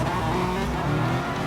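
A Gr.3 race car in Gran Turismo Sport accelerates hard at Monza, its engine roaring loud and close with a rising pitch and a hint of tire squeal, with no voices.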